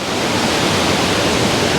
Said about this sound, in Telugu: వాటర్ ఫ్లో ఇప్పుడు తక్కువ ఉంది కానీ ఐ మీన్ వాటర్ పైనుంచి పడేది